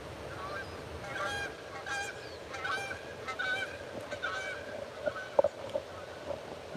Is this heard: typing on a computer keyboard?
no